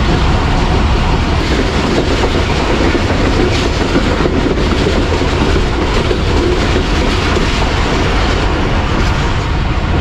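The Badar Express, a private passenger train on the Lahore to Faisalabad line, runs loud and close on its rails, with a continuous roar and a steady clickety-clack of wheels over the track joints throughout.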